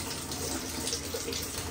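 Water runs steadily from a kitchen tap into a sink, a continuous close splashing rush with no talking.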